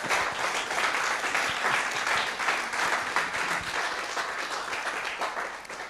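A congregation applauds during a church service, a dense, steady wash of clapping that holds for several seconds without a break, loud and close, with no voices over it.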